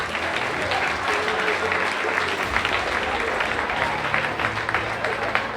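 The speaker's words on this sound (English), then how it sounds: "if everybody could please give them a round of applause" Sustained audience applause fills a school spring athletic awards ceremony, dense steady clapping from a crowd in a hall, continuous and fairly loud throughout with no break.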